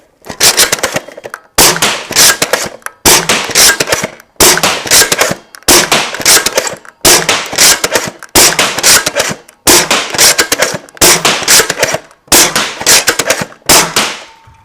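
Nerf Caliburn blaster, 3D-printed and fitted with an 18-inch barrel, firing foam darts in a steady series of about ten sharp, loud shots with brief gaps between them, with no talking.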